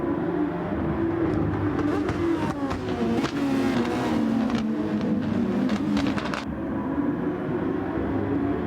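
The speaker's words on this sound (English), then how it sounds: "As you hear those inline 4 engines popping, crackling on the downshift." Inline-four race car engines in GT Sport at Fuji International Speedway, a continuous loud engine drone with sharp crackles and pops on downshifts, without talk.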